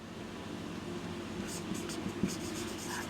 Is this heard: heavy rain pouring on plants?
no